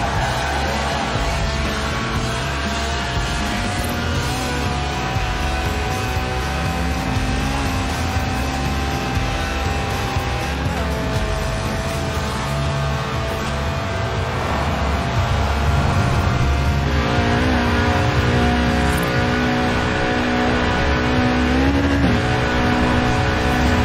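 Lotus Elise Sport 190 engine in Forza Horizon 4, revving and shifting continuously through gears with a rasping, climbing note, loud and up close for the whole stretch, with no voice over it.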